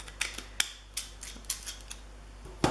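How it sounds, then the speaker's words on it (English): Decorative-edge craft scissors snip through paper for a scrapbook layout, a series of sharp, close clicks and crunches coming in uneven bursts with brief pauses, alone in a quiet room. "I really haven't kept all my fancy scissors. This is kind of my favorite one"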